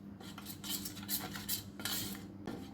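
A spoon stirs a mint chutney and spice mixture in a bowl, close and soft, with repeated scraping sweeps and light clinks of metal against the bowl, no talking.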